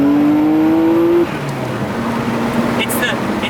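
Nissan R32 GTR engine pulling hard in first and second gear, a steady rising tone that cuts off near the one-second mark as it shifts, then carries on lower and rougher, close and loud inside the cabin.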